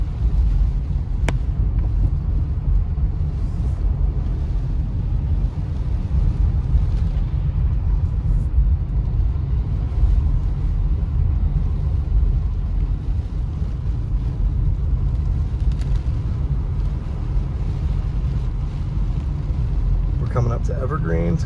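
A car drives on a snowy road in Big Bear, California, heading toward Snow Summit, its steady low engine and road rumble loud and continuous throughout.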